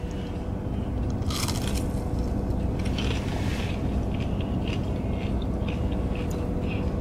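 Someone eats fried butterfly shrimp dipped in cocktail sauce, with close crunchy bites and chewing heard as sharp crackles early on over a constant loud background rumble.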